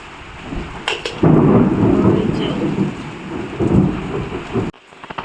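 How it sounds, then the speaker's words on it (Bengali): Heavy rain pours down during a thunderstorm with lightning, a loud dense roar of rainfall with a rumble of thunder swelling through the middle, heard close from indoors near a window, with no talking. "বলতে না বলতেই জোর বৃষ্টি নেমে গেল বিদ্যুৎ চমকাচ্ছে"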